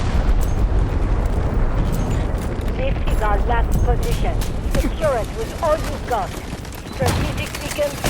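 Explosions and gunfire in the Delta Force shooter game: continuous loud, dense booming rumble with sharp bursts, running under excited talk from players.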